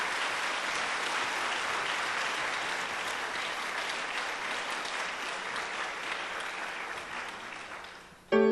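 A congregation claps together during a church service, a dense, steady wash of applause that runs loud and even for about eight seconds before breaking off abruptly, with no talking over it.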